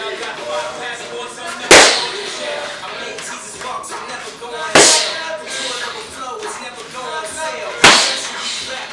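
Jab punches land in a mixed martial arts practice session, three sharp slapping impacts spaced about three seconds apart, loud and close over a busy room background.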